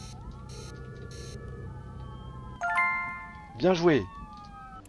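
An ambulance siren in the emergency-dispatch video game City Eye wails in steady electronic tones at low volume, joined by a brief chime, with someone speaking over it near the end.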